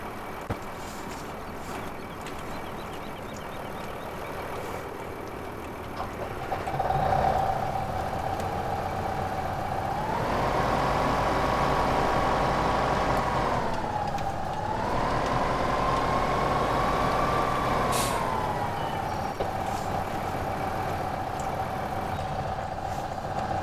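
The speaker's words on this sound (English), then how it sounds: "we're going to put the trailer on the back of this tractor" Tractor engine in Farming Simulator 2015, a steady droning hum that rises when it revs, dips briefly and settles back to a constant whine, moderately loud and with no talk.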